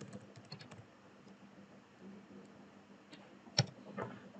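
Quiet keystrokes on a computer keyboard while code is written for a Laravel route and view, sparse clicks with one sharper tap near the end over a faint room hum.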